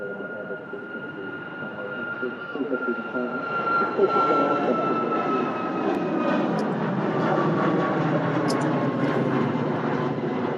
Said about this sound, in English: Lovely smooth sound there of the LEAP 1B engines on the Ryanair Max A200.